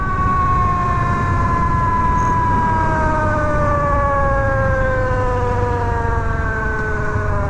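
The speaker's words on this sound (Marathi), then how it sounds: "मला डाऊट आहे की व्हील बेअरिंगचा आवाज आहे" A Triumph Tiger 660 motorcycle with a suspected failing front wheel bearing gives off a loud, steady squealing whine with several tonal layers that slowly slide lower, riding over constant road and engine rumble.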